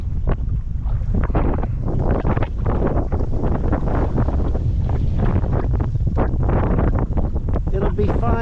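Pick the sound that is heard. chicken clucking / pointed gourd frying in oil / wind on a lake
wind on a lake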